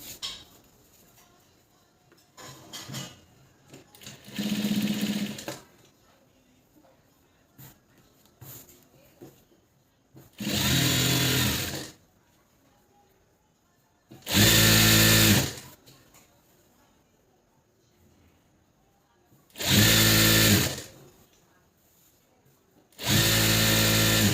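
Sewing machine stitching a pair of Patiala pants, starting the fitting seam from the lower end: short bursts of rapid mechanical whirring about a second or two long, repeated at intervals with quiet pauses and faint handling noises between them.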